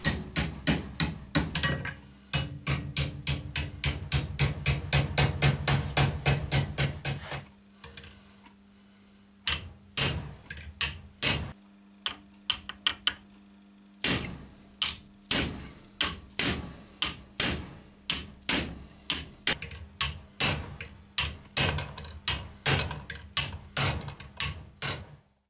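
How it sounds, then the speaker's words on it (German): Steel sheet for a Yamaha XS 650 oil sump baffle plate is hammered over a wooden template clamped in a vise. Sharp, close metallic blows come in fast rhythmic runs, with a short pause and then slower, spaced strikes. "Nun kann jetzt das Blech sauber über die Holzradien der Schablone gehämmert werden."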